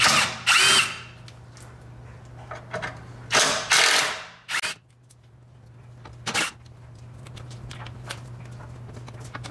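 A power tool whirs and ratchets in short bursts while removing the 10 mm and 15 mm bolts on the front differential cover of a 2015–2020 Cadillac Escalade, with quiet pauses and a faint steady hum between the close, loud runs.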